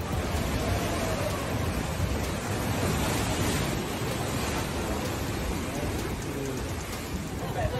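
Ocean waves at a beach, a continuous broad roar of surf washing in, steady and loud throughout with a faint swell, and no clear voices over it.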